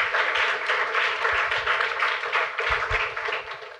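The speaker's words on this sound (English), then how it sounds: "Let's hear a round of applause for Meg." An audience at a motivational talk claps continuously in a dense, even wash of applause, sustained and fairly loud throughout with no voices over it.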